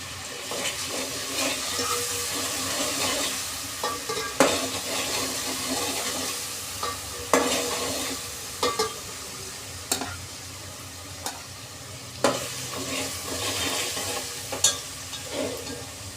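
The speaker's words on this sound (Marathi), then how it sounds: "आता मी इथे आलं लसूण टाकते. आलं लसूण चांगलं असं चवचवून द्यायचं." Ginger and garlic fry in hot oil in a pan for Bhandari-style rassa mutton, giving a steady close sizzle broken by repeated sharp scrapes and clinks of stirring, with no talk.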